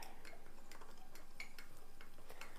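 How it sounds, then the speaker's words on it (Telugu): A spoon softly clinking and scraping in a small bowl while cornstarch is worked into homemade ghee to form a paste, faint light taps in an uneven rhythm. "నెమ్మదిగా కలుపుకోవాలి"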